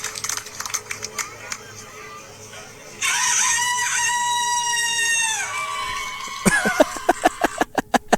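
Contestants in a crowing contest imitate a rooster, with one long voiced cock-a-doodle-doo held for several seconds, close and loud. Rapid clapping and chatter come before and after.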